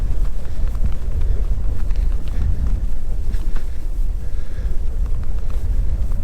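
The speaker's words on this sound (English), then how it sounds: "Well, definitely a headwind now." Strong headwind buffeting a cyclist's microphone while riding on a sunny day, a loud continuous low roar and rumble throughout with no talking.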